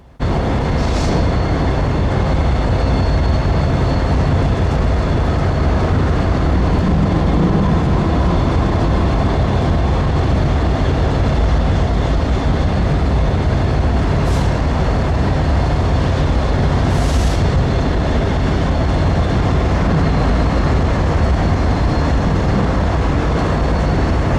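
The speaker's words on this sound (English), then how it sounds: "showed up with an actual CPKC painted locomotive in the lead." A CPKC freight train led by an ex-Baffinland Tier 4 locomotive rolls past Bensenville Yard in Chicago, a loud continuous roar of wheels and engine, with a couple of brief sharp squeals or horn-like bursts partway through.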